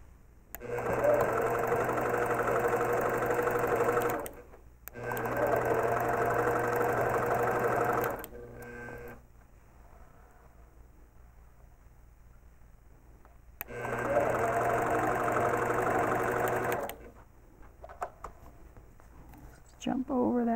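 An APQS longarm quilting machine tying a quilt runs in steady mechanical bursts, three stretches of a few seconds each with quieter pauses between.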